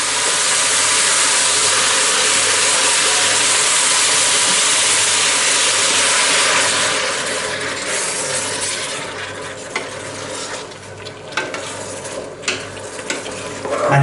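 Chopped tomatoes hit a hot pan and set off a loud, steady sizzle. It softens after about seven seconds into a quieter crackle, with occasional stirring clatters.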